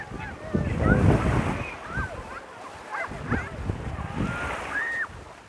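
Sea waves wash onto the shore at Kabatepe in a steady rolling surge mixed with wind buffeting the microphone, while a voice speaks over it.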